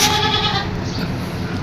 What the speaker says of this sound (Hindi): अच्छा बकरा साइज़ होगा, अच्छा वज़न करेगा।